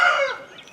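A rooster crows once, a short loud call close by that fades quickly, heard on its own.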